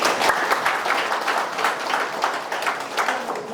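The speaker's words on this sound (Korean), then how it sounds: "네 분 박수 한번 보내주십시오" A town-hall audience at a community talk applauds four guests, with dense, continuous clapping at moderate loudness that swells and ebbs slightly.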